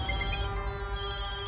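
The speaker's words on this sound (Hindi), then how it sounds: "अभी टें टें टें टें टें टें करके बज रहा है" A mobile phone ringtone plays continuously, a steady electronic tone with a bright repeating melody, fairly close and with no talking.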